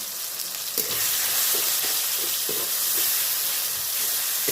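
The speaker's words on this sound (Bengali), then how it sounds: "এবার লবণ দিয়ে দেব হলুদ দিয়ে দেব এটাকে কষিয়ে নেবো" Drumstick pieces sautéing in hot oil with salt and turmeric make a steady, loud sizzle with soft stirring scrapes recurring through it, close to the pan and without talk.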